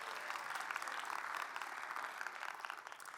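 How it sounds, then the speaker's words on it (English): A conference audience at an entomology meeting gives student volunteers a round of applause: soft, continuous clapping from many hands, fairly distant and even, with no speech over it. "Please give them a round of applause."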